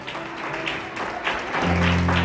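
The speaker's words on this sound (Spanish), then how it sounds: "Denle un aplauso al Señor por eso." Church congregation applauding during a sermon, a short burst of clapping that swells, heard under a steady hum.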